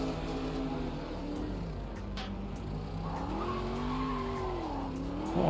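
A car spins out in the Automobilista 2 racing game, tires squealing and skidding steadily while the engine note rises and falls in wavering tones, loud and continuous throughout.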